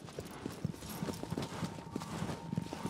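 A horse's hooves clip-clop in the video game Shadow of the Colossus, an even galloping rhythm of soft thuds running throughout at moderate level.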